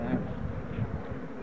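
Honeybees buzz at an open hive in an apiary, a close, dense hum lasting a moment with no break.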